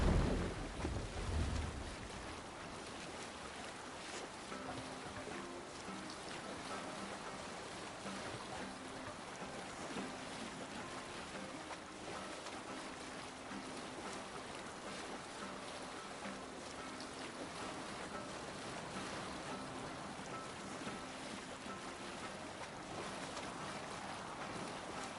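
A Viking longship sails on open water in Assassin's Creed Valhalla, with a steady wash of water, wind and hull noise running continuously and evenly throughout.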